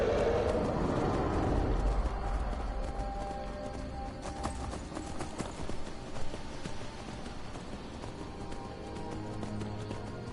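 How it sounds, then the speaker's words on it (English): A horse in the game Skyrim gallops with quick, steady hoofbeats, louder at the start and easing into a rapid clatter. "Horsey, go, horsey, go."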